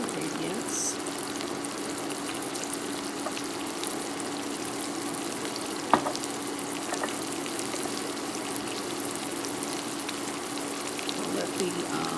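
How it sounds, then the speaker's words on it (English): Onions cook in a pan for a restaurant-style seafood boil sauce for crab legs, giving a continuous soft sizzle with a faint clink partway through. "Let the onions cook first, and then add some other ingredients to the pan"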